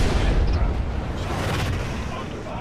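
Flare countermeasures launching from a ship in the space game Star Citizen, heard as a deep rumbling burst that swells loud at the start and then fades into a sustained low roar.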